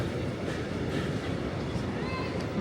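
Rumbling train noise with a steady low roar and faint clatter, a dense station din throughout, at Dresden Hauptbahnhof.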